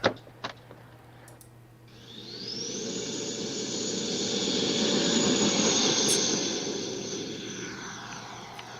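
A radio-controlled jet airplane takes off, its turbine spooling up into a loud, rising whine and broadband roar that builds after a quiet start, peaks, then begins to recede into the distance.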